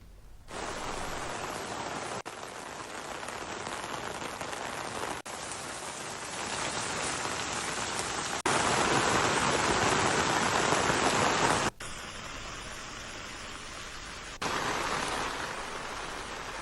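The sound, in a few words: rain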